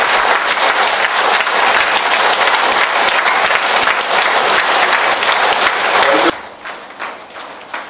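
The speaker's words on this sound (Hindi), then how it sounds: "जोरदार से तालियां बजाएंगे ध्यान से।" An audience at a meditation center breaks into loud, dense applause that runs evenly for several seconds, then drops sharply to a few scattered claps at the end.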